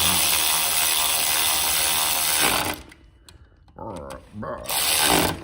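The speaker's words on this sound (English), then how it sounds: "I just do it as tight as the little ratchet will do" A small hand ratchet tightening clutch cover bolts on a 1987 Yamaha FZR 1000: a sustained, rapid clicking run, then a pause and a few shorter bursts of ratcheting close by.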